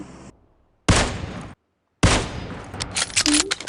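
Gunfire in the PUBG Mobile video game: two loud, rapid bursts of shots, the first short, the second longer and more scattered, separated by a brief silence.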